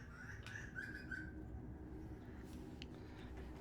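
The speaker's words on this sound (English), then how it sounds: "I'm assuming the mic is picking up that bird" Just outside a window, a bird sings a few quiet, high chirps and short whistled notes over a low, steady background rumble.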